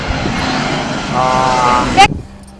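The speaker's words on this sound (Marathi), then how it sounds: "विमान चाललंय बघा इथून" A propeller airplane drones overhead with a steady engine roar that swells slightly, then cuts off after a brief louder bump.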